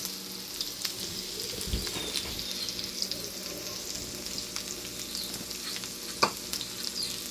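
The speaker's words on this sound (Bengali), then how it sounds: "আমি 5 থেকে 6 মিনিট পেঁয়াজটা আর দারচিনি, এলাচটাকে ভাজবো" Onion, cinnamon and cardamom fry in a pan for a prawn malai curry, giving a steady, soft sizzle that runs unbroken throughout, with a few light clicks of stirring on top.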